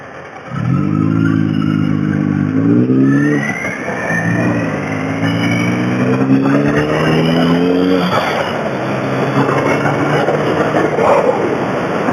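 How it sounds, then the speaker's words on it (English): A BMW Mini car drives past close by. The engine swells into a loud, rising growl with a gear change partway through, then rumbles on steadily under light wind noise. "Nice sounding Mini, or call it a Mini, it's a BMW Mini alike."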